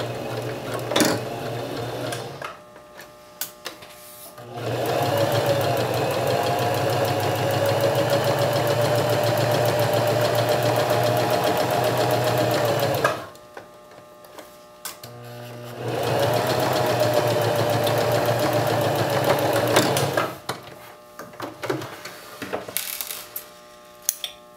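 A sewing machine runs a French seam through sheer fabric in two long, steady whirring stitching runs, close and loud, separated by brief pauses with small clicks and handling sounds.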